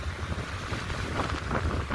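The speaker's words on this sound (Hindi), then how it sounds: "इतनी तेज आंधी चल रही है यहाँ" Strong wind blowing at Karaikal beach, a loud, steady roar buffeting the microphone with gusty surges throughout.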